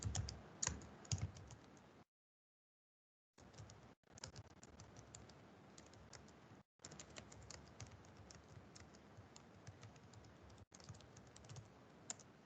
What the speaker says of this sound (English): I'll type out what it stands for.